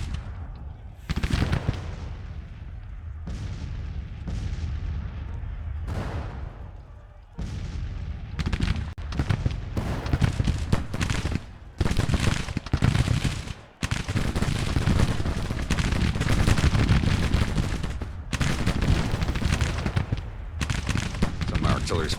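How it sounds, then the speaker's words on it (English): Civil War artillery and musketry in Grand Tactician thunder across a long battle, with repeated heavy booms and crackling volleys at irregular intervals, loud and continuous, with brief lulls. "artillery's flying over my own men"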